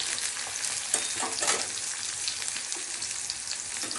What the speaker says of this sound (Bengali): লাল লাল পেঁয়াজ দিয়ে ভাজা হয়ে যাচ্ছে